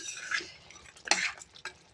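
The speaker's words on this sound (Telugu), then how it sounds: "ఒకసారి కలుపుకొని మూత పెట్టుకున్నాను." Mutton curry is stirred in a pot, quiet scraping and clinks of a spoon against metal with a louder clank midway, over a faint sizzle; no talking.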